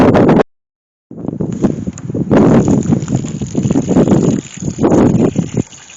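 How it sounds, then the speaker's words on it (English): Gusty outdoor wind buffets the microphone in an open garden, coming in heavy rumbling bursts with one brief drop-out and a thin steady hiss underneath. "The wind's picking up, so I'm hoping I film this before the wind noise becomes too uncomfortable"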